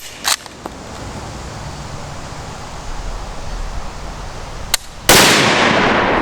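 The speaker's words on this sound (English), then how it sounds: "That was a big stutter. Not a stutter, it's a hang fire." Old military surplus ammunition fired from a gun with a hang fire, with sharp isolated reports separated by long pauses and a final loud blast, heard outdoors without talking.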